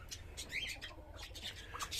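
Faint, scattered parrot chirps and squawks come and go from the grass over a soft low background hum, several calls overlapping at a modest distance.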